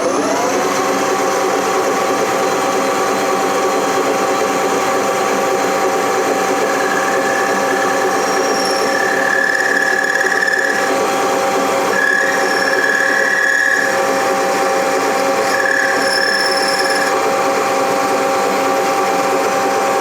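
A Colchester student lathe cuts a screw thread, giving a loud, steady mechanical whir and gear drone with a constant hum and intermittent higher whines from the cut, continuous throughout.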